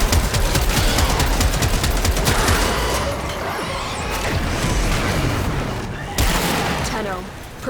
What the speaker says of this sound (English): A bunch of explosions.